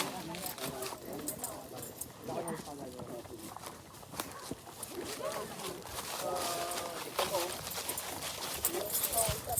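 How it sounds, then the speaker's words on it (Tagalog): Horse hooves clip-clop along a mountain camping trail, a steady walking rhythm that carries on throughout while people talk nearby. "May kabayo pa."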